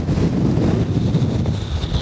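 Strong winter wind buffets across an exposed Lake District fell in the Eastern Fells, a loud, continuous roar with gusty low rumbling against the microphone and no voices.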